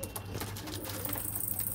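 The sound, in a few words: pigeons cooing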